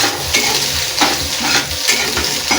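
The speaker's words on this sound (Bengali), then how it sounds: "ডিমটা ভুজিয়ার মতো নেড়ে নেবো" Two eggs are stirred and scrambled in a wok with a spatula, giving loud, continuous frying sizzle. Rhythmic scraping strokes recur roughly every half second throughout.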